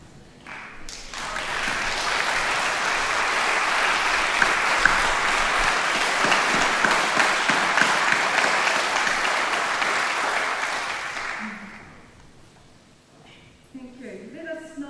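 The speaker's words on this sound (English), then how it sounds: "so we can all give you all a clap for all of your efforts" A room full of people at a leadership summit claps steadily for about ten seconds, then the applause fades out and a voice begins speaking.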